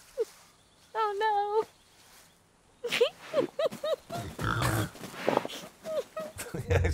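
A pig grunts and squeals in The Quarry, with short pitched cries mixed among people talking throughout.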